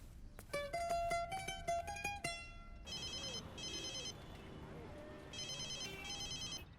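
A phone rings with a bright electronic melody, followed by repeated short trilling ring bursts, fairly loud and close.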